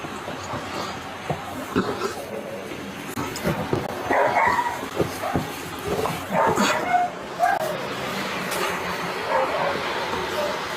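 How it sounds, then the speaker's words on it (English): A household dog somewhere in the back of a home barks and whimpers in scattered bursts, moderately loud amid room noise. "we have our dog back there"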